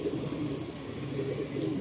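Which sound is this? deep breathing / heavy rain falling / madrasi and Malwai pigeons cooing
madrasi and Malwai pigeons cooing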